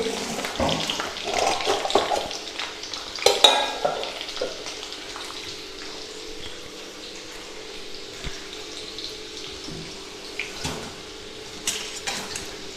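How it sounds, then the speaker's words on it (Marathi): Garlic frying in oil makes a soft sizzle alongside clattering utensil sounds and some watery splashing, with a few louder knocks in the early seconds before it settles into a quieter, steady background. "लाल भाजून घ्यायचा आहे लसूण तेलात"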